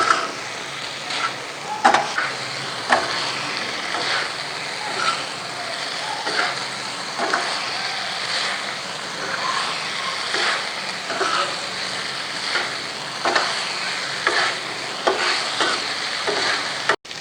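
Goat liver fries on a tawa griddle in a steady, loud sizzle, with repeated scraping and tapping strokes of a spatula as the pieces are stirred and tossed over several seconds.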